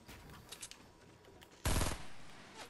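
Gunfire in the video game Fortnite: a short, loud burst of rapid automatic shots erupts after quiet moments of faint game ambience, with no talking over it.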